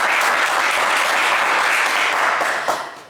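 A studio audience on a French-language game show applauds a contestant with steady, loud clapping that holds evenly for a few seconds before tapering off.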